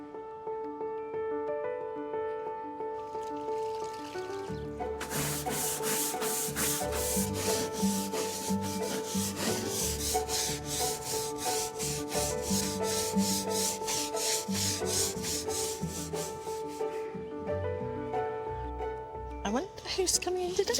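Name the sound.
scrubbing wooden toy to clean it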